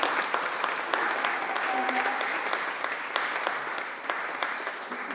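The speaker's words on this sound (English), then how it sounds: "A round of applause again, please." An audience at the Macfest 2025 opening ceremony claps steadily throughout, with dense applause from a large crowd and a few sharper individual claps standing out.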